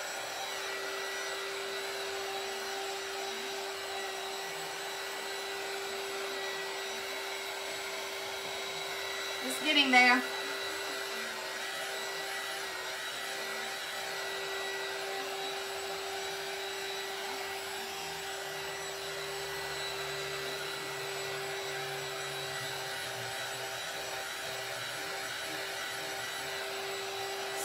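A hair dryer drones steadily and evenly throughout while drying paint on a board, with a short clatter near the middle and someone speaking briefly over it.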